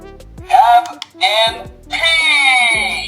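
A small electronic speaker on a Punkjack PDX Monster Raise Buckle toy transformation belt blares a tinny, excited recorded voice in loud shouted bursts, with beeping tones underneath, like a toy sound effect.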